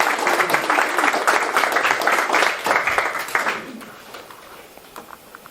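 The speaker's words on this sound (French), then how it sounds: "Vous pouvez l'applaudir." Audience clapping at a talk about returning from Albania, a dense burst of many hands close by that holds steady for about three seconds, then thins out and fades to scattered claps.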